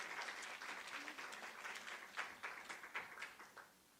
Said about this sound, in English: A warm round of applause for Professor